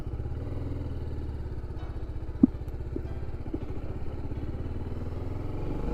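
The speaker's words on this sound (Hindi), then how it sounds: "चलो अब इस बाइक को स्टार्ट करते हैं" A BMW G 310 RR motorcycle's single-cylinder engine idles with a steady, close, low pulsing throb and a brief sharp click partway through.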